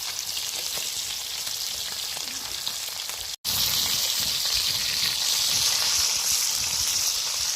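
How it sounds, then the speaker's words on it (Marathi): Katla fish fries in oil on a pan over a wood-fired stove, giving a steady close sizzle with a brief dropout midway, then a brighter, hissier burst of frying. "हे बघा कशी मच्छी फ्राय होते"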